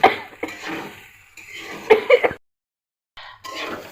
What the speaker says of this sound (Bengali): পাস্তা করতে গিয়ে কাশি হয়ে যাচ্ছে আমাদের